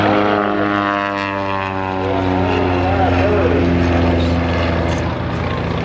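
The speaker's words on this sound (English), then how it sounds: "The X-Bird has the open-roof rotary engine in it." Vintage propeller airplane with an open rotary engine flying at a Father's Day air show at Rhinebeck Airport, a loud steady droning engine with harmonic whine that rises slightly as it passes, with someone talking over it.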